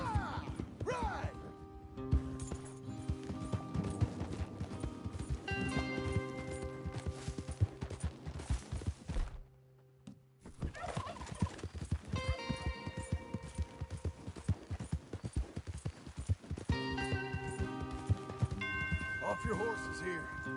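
Horses galloping in the Western video game Red Dead Redemption 2, rapid hoof clatter mixed with game music and character dialogue, briefly dropping out near the middle before resuming.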